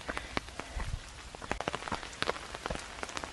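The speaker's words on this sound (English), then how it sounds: "of course it's raining" Rain falling at the Great Wall at Shanhaiguan, a steady close patter of drops striking the surface with scattered louder splashes, no talking.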